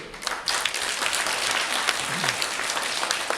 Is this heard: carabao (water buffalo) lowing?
no